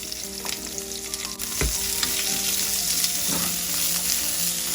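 Onion and garlic fry in a tablespoon of oil in a wok, a steady close sizzle with brief stirring scrapes and a sharp clatter partway through, with no voices.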